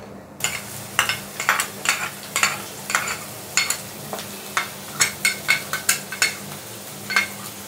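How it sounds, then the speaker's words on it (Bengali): Chopped onions fry in hot white oil while a spatula stirs them, producing a light sizzle broken by rhythmic scraping taps against the pan, roughly one or two per second, close and clear with no voices. "आमार तेल गरम हो गेছে, आमी पेঁয়াজ कुचि गुलो दिए दिচ্ছি"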